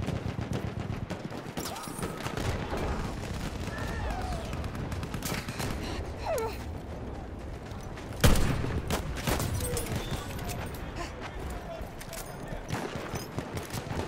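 Martini-Henry rifle shots in Battlefield 1 gameplay, scattered cracks amid a busy battlefield din of distant gunfire, with one loud close shot standing out midway while a player talks over the action.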